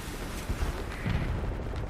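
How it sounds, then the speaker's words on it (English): A booming explosion in a Starsector space battle, part of a dense stretch of rumbling blasts and weapon fire with no break between them. "Ooh, that was a nice explosion."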